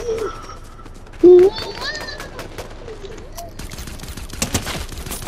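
Gunfire from the video game Fortnite, a short loud burst of shots among game sounds, with someone talking excitedly over it.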